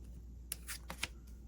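A deck of trading cards from a Marvel card game is riffled and shuffled: a few quick, faint papery snaps over a quiet hum.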